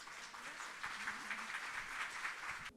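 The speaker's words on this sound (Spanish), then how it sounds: "Un fuerte aplauso para las dos." Faint, steady applause for two presenters at the end of an education session, a soft continuous patter of clapping heard at a distance that cuts off abruptly.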